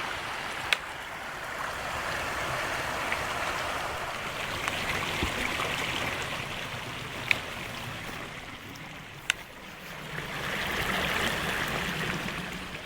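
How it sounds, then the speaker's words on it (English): A river flowing far below a steep deer trail in a wild, overgrown area, a steady broad rush of water with a few faint clicks and footsteps over it. "you can see the river down there. You can probably hear it too."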